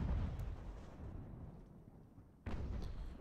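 Artillery fire in the strategy game Ultimate General: American Revolution, a deep booming blast that rumbles away, then a second heavy boom strikes near the end.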